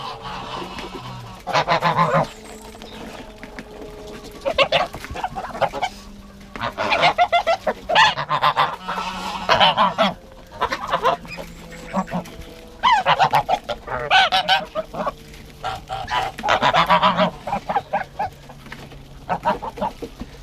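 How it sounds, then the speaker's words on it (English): Farm geese honk loudly in repeated bursts, close by, with a person talking between and under the calls. "the geese that are here now, these ones that I'm just able to touch without any issue whatsoever"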